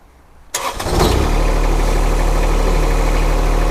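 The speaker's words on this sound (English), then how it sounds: "I'll leave it at an idle at first just to see if it can lift it at idle" A John Deere sub-compact tractor fitted with pallet forks starts up after a brief quiet moment, and the engine catches loudly and settles into a steady, close, rumbling idle.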